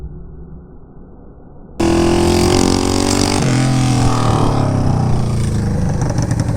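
Honda CB500 motorcycle engine with a straight-piped exhaust, the pipe having come off one cylinder; a quiet idle suddenly jumps into a loud, raw, sustained rev that holds steady and then shifts pitch, very close.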